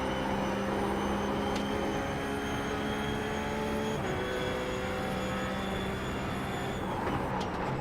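Race car lapping Road Atlanta near full throttle in fourth gear through a fast right-hander, a steady high-revving engine drone that holds constant throughout.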